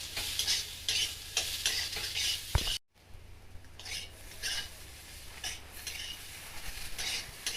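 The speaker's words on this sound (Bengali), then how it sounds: "এবার লঙ্কা গুঁড়ো দেওয়ার পরে আমি কিছুক্ষণ নেড়ে নিলাম" A spoon stirs fig curry seasoned with chili powder in a pan, scraping in repeated strokes over a soft sizzle. A brief silent gap falls midway, then the stirring continues at the same pace with no talk.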